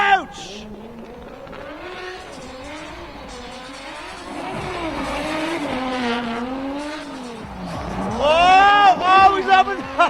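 A drift car sweeps through a backwards entry at a drift competition, engine droning and wavering in pitch as it slides, rising louder near the end, with crowd noise and an announcer talking over it throughout.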